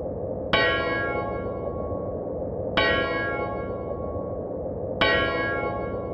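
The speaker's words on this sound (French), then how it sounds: "pour le 262 coups de cloche chaque année" A memorial bell at Bois du Cazier tolls three times at slow, even intervals, each strike ringing out with a long shimmering decay over a steady outdoor background hum.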